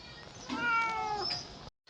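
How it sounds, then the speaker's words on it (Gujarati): A house cat gives a single drawn-out meow, close and fairly soft, about a second long, with faint room noise around it and no talking. "મિત્રો આપણે મીંદડીને ભગાડી છે"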